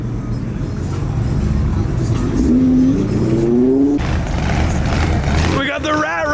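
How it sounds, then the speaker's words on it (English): A loud rat rod revs and drives past at a crowded car show, its engine roaring and rising in pitch over heavy crowd noise, with excited voices shouting nearby. "We got the rat rod coming in. This thing is loud."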